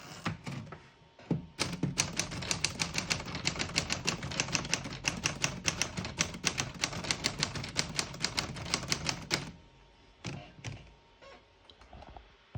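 A 1936 Corona Standard portable typewriter is typed on in a fast, dense run of sharp key strikes lasting about eight seconds, then a few scattered clacks and a pause, close and clear with no talking.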